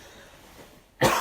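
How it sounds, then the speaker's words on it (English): A single short, sharp cough at the very end, close and fairly loud after a quiet pause. "That's a cough."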